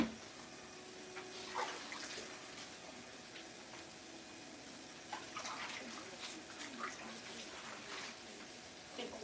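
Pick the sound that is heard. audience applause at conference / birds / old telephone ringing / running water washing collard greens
running water washing collard greens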